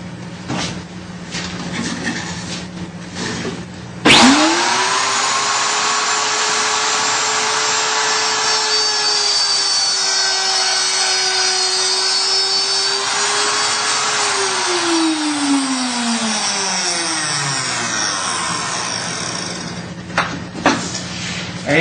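A Shopsmith router cuts a double blind groove in wood, starting with a sharp spin-up and holding a loud, steady whine for about ten seconds before winding down, with a few faint knocks before and after.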